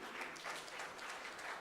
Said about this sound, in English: With a warm round of applause, everyone.